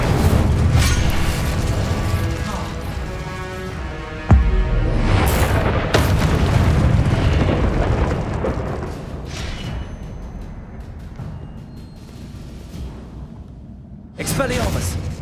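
Spell blasts and booming explosions from Hogwarts Legacy combat, loud and close, with a heavy impact early on, a sustained rumbling roar that fades, and a sudden new burst near the end, under spoken incantations.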